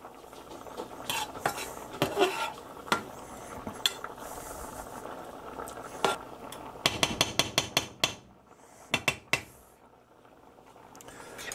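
Spoon or spatula stirring chicken biryani ingredients in a frying pan, with repeated scraping and clinking against the metal, a faint sizzle underneath and a quick burst of sharp knocks near the end.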